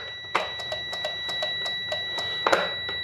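Intermittent beeps ring out from the wiring of a broken Dixon lawn mower fitted with a Cub Cadet engine, a steady series of short tones with a couple of louder clicks, heard alone at close range.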